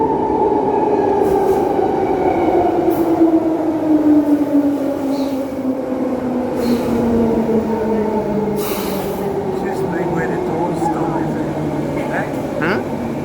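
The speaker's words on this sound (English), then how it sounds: "Oh, that's the same train we caught here." A train on Perth's Ellenbrook Line rumbles past with a steady low roar and a slowly falling tone, while people talk nearby over the noise.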